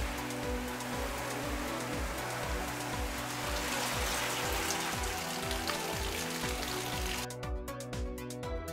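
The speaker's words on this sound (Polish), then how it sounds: "nagle zmieniła się pogoda i było gradobicie" Hail or heavy rain pelting a surface during a sudden mountain storm, a dense steady patter with a faint recurring hum beneath it, near and continuous before thinning slightly at the end.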